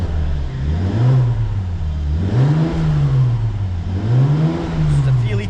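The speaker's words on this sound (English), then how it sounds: "give it a little rev, just let you hear what the car sounds like" A Mercedes SL400 AMG Line's 3-litre turbocharged V6 engine is revved three times in a row, its deep growl swelling and dropping in pitch each time, very close and loud.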